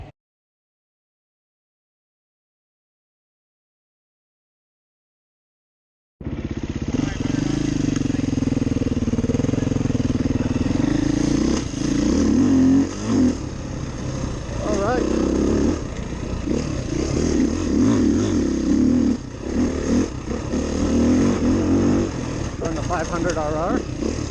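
Silence for about six seconds, then a Beta off-road motorcycle engine starts up and runs steadily, rising and falling as it rides along, loud and close, with rough revving bursts.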